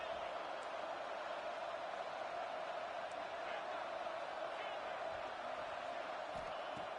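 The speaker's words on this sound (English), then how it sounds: "This crowd's trying to inspire this defense to make a big red zone stop." A stadium crowd at an LSU vs ASU college football game roars steadily, urging the defense toward a red zone stop. The constant, distant wall of noise runs throughout, with a commentator's voice faintly underneath.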